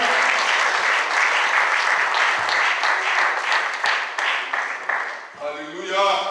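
A church congregation breaks into loud, sustained applause that fills the room, with voices calling out over the clapping and the applause thinning near the end.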